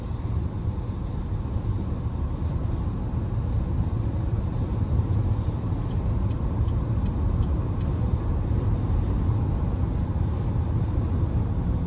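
A 2023 Chevrolet Traverse Premier with a 3.6L engine cruises on freshly repaved interstate, giving a steady, smooth low road and engine hum inside the cabin, constant and unbroken with no talking.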